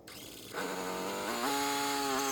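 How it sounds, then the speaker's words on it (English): A sawmill blade slices zebra maple into boards 1 1/16 inch thick. It starts with a sharp onset, then a loud steady whine that rises in pitch partway through and holds as the cut continues. "these boards that are getting sliced right here are 1 1/16 inch thick"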